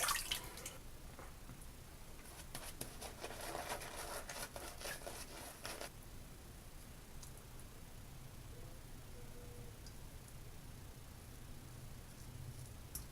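Water drips and trickles as a razor is rinsed during a wet shave with avocado and sea salt shave soap, a splashy patter for a few seconds and then a quieter steady hiss with faint drips.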